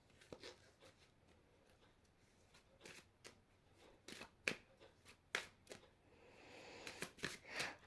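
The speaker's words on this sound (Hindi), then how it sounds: "let me just take out some more cards from this" Playing cards being drawn from a deck during a candle wax reading, heard as scattered soft slides and flicks, with quiet gaps and a busier cluster of rustles toward the end.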